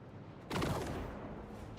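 Twin las cannons firing in a Warhammer 40,000 video game in Grimdark Mode: a sudden burst of blasts midway, then a rumbling decay, fairly faint overall.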